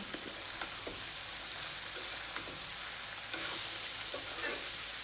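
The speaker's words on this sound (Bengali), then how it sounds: "আমার করলা ভাজিগুলো তো অনেকটাই কমে এসেছে এবার আবারও ভালো করে নেড়ে দেবো" Bitter gourd (karela) fries in a pan as it is stirred, a soft, constant sizzle broken by light spatula scrapes, growing a little louder near the end.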